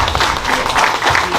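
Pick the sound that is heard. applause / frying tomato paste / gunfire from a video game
applause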